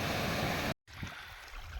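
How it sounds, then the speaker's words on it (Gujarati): Steady rushing water from village streams swollen after heavy night rain, a continuous broad wash that cuts out briefly, then returns softer. "નદી નાળા ઝરણા વહે છે ધીરા ધીરા"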